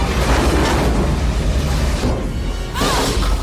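A roaring blast from a film explosion in Independence Day fills the air, a dense rumbling wash of debris and fire that briefly dips before surging again with a sharp swoosh.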